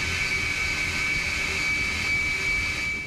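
Jet engine running on a test stand, started with compressed air: a loud, steady, continuous roar with a sustained high-pitched whine on top, unbroken throughout.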